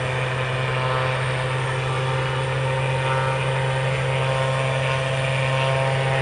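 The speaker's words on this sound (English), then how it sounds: "So 3 Texans taxiing out." Three Texan T1 training aircraft taxi out at RAF Valley, making a constant, even propeller drone with a low steady hum and no gaps.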